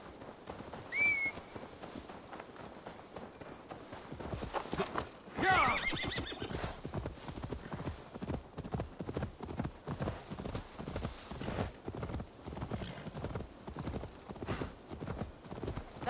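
A horse in the video game Assassin's Creed Valhalla, with steady clip-clopping hooves throughout and two clear whinnies, one early and a louder one near the middle.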